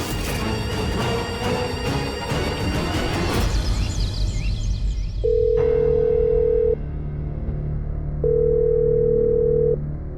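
A telephone call goes unanswered: after a burst of busy sound, two long ringback tones sound clearly and alone, each lasting about a second and a half with a pause between them.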